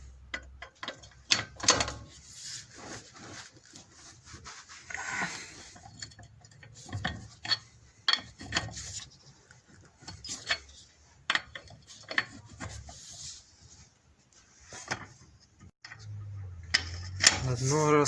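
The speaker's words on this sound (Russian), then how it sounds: "откручиваем шпильки," Wheel bolts on a Renault Logan are loosened by hand, giving scattered metallic clinks, scrapes and ticks in an uneven rhythm, close and fairly quiet, with occasional brief talk and a low rumble near the end.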